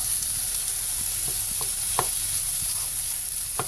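A chicken cutlet for tandoori chicken sizzles steadily in a hot frying pan, with a constant hiss and a few sharp ticks from the utensil against the pan, close and without voices.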